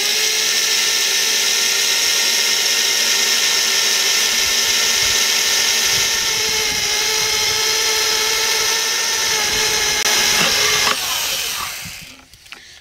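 A steady high-pitched drill whines continuously at close range, grinding into a ceramic baking dish under light pressure, then winds down and stops near the end.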